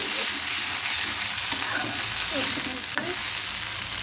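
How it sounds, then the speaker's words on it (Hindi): Okra (bhindi) fries in a pan at home, a steady close sizzle filling the whole stretch with a few small clicks of stirring. "मेरी भिंडी फ्राई हो गई है।"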